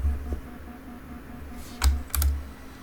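A computer keyboard key is pressed to lower the landing gear in Microsoft Flight Simulator 2020, a couple of close, sharp clicks over a low engine hum, with no talking.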